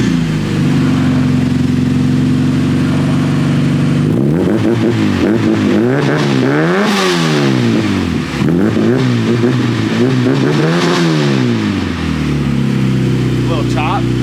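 Honda K-series engine swapped into a Nissan S14, idling steadily then revved repeatedly in rising and falling sweeps before settling back to idle, loud and close, with people talking over it.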